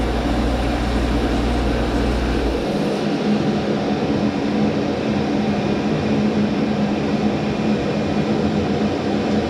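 A wood lathe spins a night light base during sanding. A loud low motor drone cuts out after about three seconds, and a steady whirring rush carries on after it.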